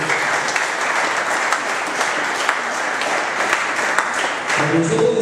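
A church congregation applauds during a sermon, dense sustained clapping filling the room, steady and loud with a slight swell near the end.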